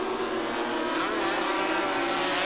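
Loud, steady engine roar of 250cc racing motorcycles, including a Kawasaki, speeding past at the 1982 Dutch Grand Prix, a continuous high-revving drone with no break.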